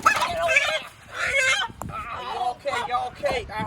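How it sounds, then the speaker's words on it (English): A wild rooster crows and clucks loudly in a series of harsh, rising calls with brief pauses between them, close to the listener, over a background of outdoor noise. "The wild rooster here."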